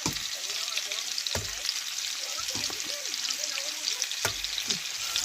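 Potatoes and carrots fry in a pan with a steady, close sizzle, broken by a few scraping stirs and clatters as they are moved around, and a voice talks over the cooking.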